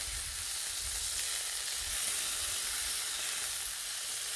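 Tri tip steaks searing on a griddle, a steady loud sizzle and hiss of frying that fills the whole clip without a break, with no voices.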